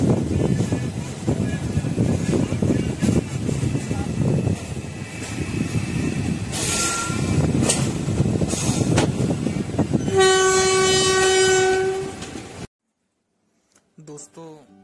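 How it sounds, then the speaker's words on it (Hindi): A passenger train running at speed, with continuous rumbling and clattering, bursts of wheel and rail noise, and a loud sustained horn blast toward the end before the sound drops away; a voice talks over parts of it. "बछरावा क्रॉस करने के बाद फिर से हमारी ट्रेन ने वही अपना पुराना रूप ले लिया था"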